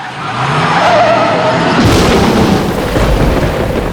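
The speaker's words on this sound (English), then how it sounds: "we ended up adding a huge amount of sound effects, from thunder, lightning, rain, screeches of tires, car noise" Theatrical sound effects for a stage storm scene: a loud tire screech with roaring car noise that swells into a heavy rumbling boom, close and forceful throughout.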